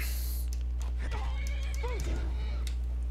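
A horse in the video game Skyrim gives a short whinny partway through, heard faintly beneath a steady loud game hum, with a few other game sounds around it.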